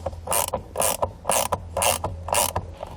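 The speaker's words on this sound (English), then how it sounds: "we're going to use a low clearance screwdriver to get our hardware installed" A low-clearance screwdriver tightening trailer brake controller mounting hardware, giving a run of quick ratcheting clicks in about six even bursts, close and clear, with no talking.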